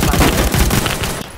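Rapid bursts of gunfire from a Roblox shooter game, loud, dense and booming, clattering for just over a second and then cutting off.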